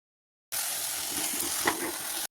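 Rice fries with chicken in a pressure cooker, starting abruptly as a close, steady sizzle with faint stirring scrapes, then cutting off sharply.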